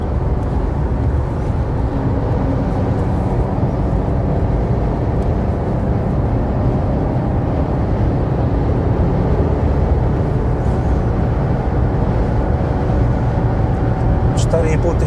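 Inside a Dacia Sandero TCe100 running on LPG at near-motorway speed in fifth gear at about 4,500 rpm. A loud, steady drone of engine, tyre and wind noise fills the cabin throughout.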